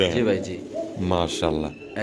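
Pigeons at a Bangladeshi bird sale coo in close, repeated bursts while voices talk over them.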